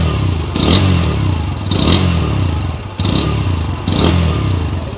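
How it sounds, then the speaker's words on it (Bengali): Exhaust of a Bajaj Pulsar N125 motorcycle with its new engine and underbelly silencer, revved four times in quick succession, each blip rising and falling, close and loud with no talk. "যেহেতু এর নতুন ইঞ্জিন, নতুন সাইলেন্সার, তাই এর এক্সস্ট সাউন্ড একবার শোনা যাক"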